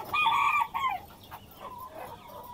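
Egg-laying hens clucking and calling loudly up close, a strong crowing-like cry at the start followed by softer scattered clucks.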